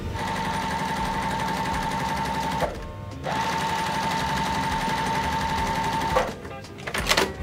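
A sewing machine runs in fast, steady bursts while stitching quilt squares along a marked line, pausing briefly twice, loud and close, with faint handling clicks near the end.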